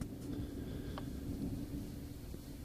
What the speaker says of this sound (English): violent thunderstorm outside here, lightning storm